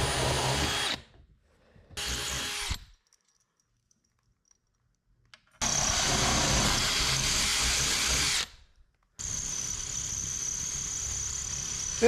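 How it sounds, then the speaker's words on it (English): A power drill boring holes for a trolling motor mount on a new boat, several whirring bursts of a few seconds each, close and loud, separated by silent pauses. "while I drilled a ton of holes in this thing"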